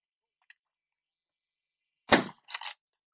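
A single sharp shotgun blast goes off during a dove hunt in Uvalde, Texas, followed quickly by a second, fainter crack, with silence around them.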